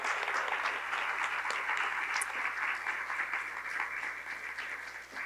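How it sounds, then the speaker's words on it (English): Steady audience applause fills a candidates forum for the Town of North Hempstead supervisor race, a dense, even wash of many hands clapping throughout, slowly easing off near the end. "please offer applause to both candidates for their willingness to answer all of your questions tonight"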